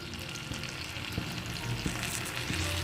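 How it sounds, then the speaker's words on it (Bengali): Bottle gourd leaves dropped into lightly heated mustard oil, frying with a continuous close sizzle and a few soft knocks and stirs, no voices. "তেলটা গরম করে নিয়েছি এবার পাতাগুলোকে দিয়ে দেবো"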